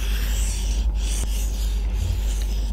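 A knife blade is stroked back and forth on a whetstone in a continuous close-up rasping scrape, with short pauses between the forward and backward strokes.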